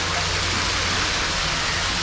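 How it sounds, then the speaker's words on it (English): A waterfall pouring into an underground brook culvert, a dense, steady roar of falling water echoing in the enclosed tunnel, loud and continuous. "So yeah, a mystery waterfall joining us."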